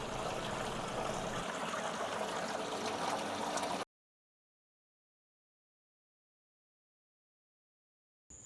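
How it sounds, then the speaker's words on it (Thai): Water flows steadily through a sack of chemicals in a village water-treatment setup, a continuous close trickling rush that stops abruptly partway through, leaving silence. "ในกระสอบตรงนี้น้ำไหลผ่าน"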